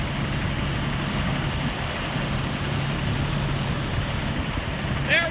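Several fire apparatus idle together before heading to a building fire: a 2016 Ford F-250, a 2012 Pierce Quantum 95-foot mid-mount platform and a 2006 Pierce Enforcer. Their low, steady engine rumble continues unbroken, and a brief higher sound enters near the end.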